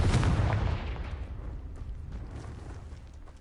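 A Confringo fire spell blast in the video game Hogwarts Legacy, heard as a loud, close booming explosion that strikes at once and then fades over about three seconds into a rumbling, crackling tail.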